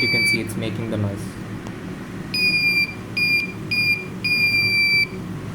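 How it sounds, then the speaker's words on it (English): A shrill electronic active buzzer driven by an Arduino UNO on 5 volts sounds in three or four evenly spaced bursts, each about half a second long, after some brief talking. "there you can see it's making the noise."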